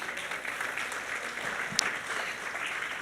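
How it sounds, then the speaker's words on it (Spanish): A church congregation at a Sunday service applauds in a continuous, even patter of many hands, moderately loud and steady for the whole stretch. "Dele un aplauso al Señor por ello."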